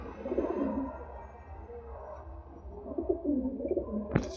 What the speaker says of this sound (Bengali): খুব সুন্দর পায়রা একটি পায়রা।